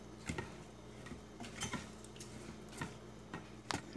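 Soft scraping and clinking of a utensil stirring rice with tomato in a pot, with a few sharper taps against the rim over a low steady hum.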